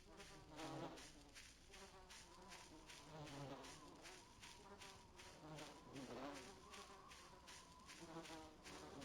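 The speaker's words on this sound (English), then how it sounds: "I hear bees." Bees buzz steadily in the video game Voices of the Void, a quiet, continuous drone with a regular pulsing texture and no voices.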